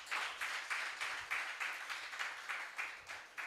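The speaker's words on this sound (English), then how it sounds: "A round of applause for yourselves," Audience applause at an export summit, a steady wash of many hands clapping with rhythmic surges throughout, fairly distant and unbroken by talk.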